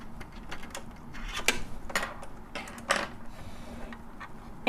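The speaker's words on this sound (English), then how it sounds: "So I'm going to unscrew the screw right on the side of the presser foot right here. Use my screwdriver to do that." Screwdriver unscrewing the side screw of the presser foot on a Singer Legacy SE300 sewing and embroidery machine, soft metallic ticks and scraping clicks at an uneven pace, close and quiet.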